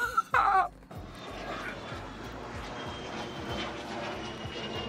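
An airplane passes overhead as a steady, broad roar that fills the background, after a brief burst of laughter-like voice at the start; the drone stays even and moderately loud.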